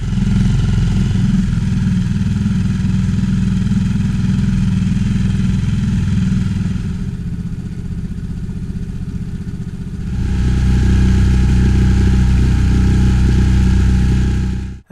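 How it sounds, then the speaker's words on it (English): A 6-horsepower outboard motor warms up on icy Loch Moidart, its steady low idle running loud and continuous throughout, briefly softening midway before returning to full strength, with no voices. "I fired up my outboard to give it a warm-up run"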